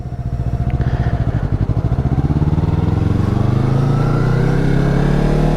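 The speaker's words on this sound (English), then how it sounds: "Cobalt sound like a dang Harley Davidson" The engine of a Chevrolet Cobalt car revs loudly and close, with a rapid pulsing exhaust note that rises steadily in pitch like a motorcycle.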